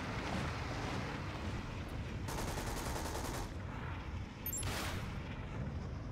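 An M113's top-turret .50 cal machine gun firing in the video game Toy Soldiers: Cold War, bursts of rapid gunfire layered over loud continuous battle noise and rumbling explosions.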